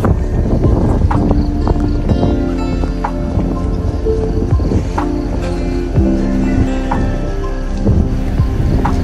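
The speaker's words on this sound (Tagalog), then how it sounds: "Malakas din ang hangin at may konting pag-ambon." Loud, steady wind roars and buffets the microphone throughout at a nature park campsite in Tanay, Rizal, with creaking and knocking sounds underneath and no talking.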